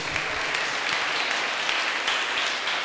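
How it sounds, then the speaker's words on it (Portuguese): Church congregation giving a round of applause, a full, even burst of clapping across the whole short stretch with no speech over it. "Pode dar uma salva de palmas para Jesus."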